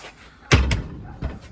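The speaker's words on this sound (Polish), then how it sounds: "Zamknięte drzwi." A door slams shut with a heavy thud, then a second softer bang follows shortly after, close by in a quiet interior.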